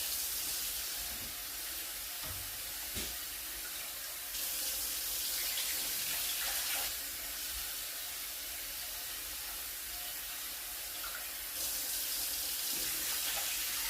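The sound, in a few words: tap water running while rinsing rice in a pot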